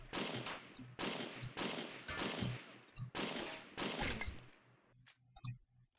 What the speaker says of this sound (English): I think that was 20 shots